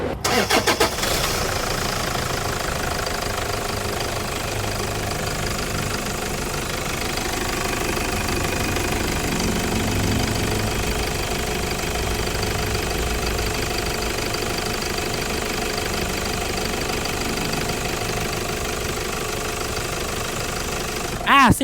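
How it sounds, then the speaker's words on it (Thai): A diesel engine of a 2006 Toyota Fortuner 3.0 4WD SUV cranks and catches, then settles into a steady, loud, knocking idle that runs on without a break. "เดี๋ยวฟังเสียงเครื่องยนต์กันก่อน"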